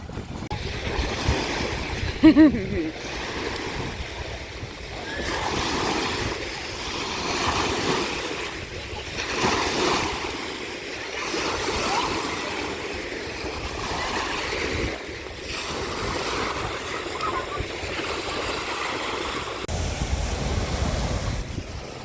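Strong wind blowing by Lake Alakol in Kazakhstan, a steady gusting roar buffeting the microphone with waves rolling underneath, loud and continuous with a brief thump near the start.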